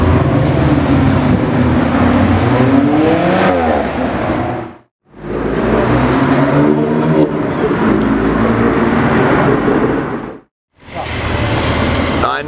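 A Mercedes-AMG GT R sports car drives past, its loud engine note rising and falling in a sustained roar, with two short breaks of near silence between passes.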